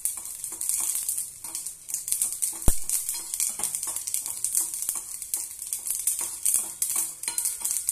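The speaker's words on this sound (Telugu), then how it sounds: "నువ్వుల పప్పులు ఆయిల్ వేసి రోస్ట్ గా వేపాలి" Sesame seeds roast in oil in a pan, giving a constant bright sizzling hiss broken by small scraping and clinking stirs and one sharp knock, with no voices.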